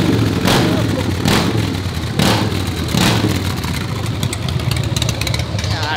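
A Terminator Cobra's engine runs loud and close, its rough rumble swelling in several repeated revs about a second apart before settling into a steady, heavy idle.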